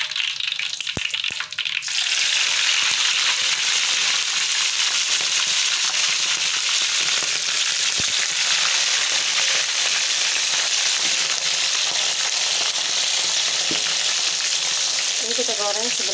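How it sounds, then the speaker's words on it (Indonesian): Short mackerel is lowered into hot oil in a pan. After a brief quieter moment a loud, dense sizzle and crackle bursts out and holds steady, with no speech. "kita masukkan ikannya ya"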